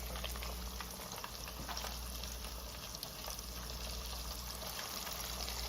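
Ribs frying in hot grease in a home kitchen: a steady, dense crackling sizzle that holds at an even level throughout, fairly quiet and close, with no talking.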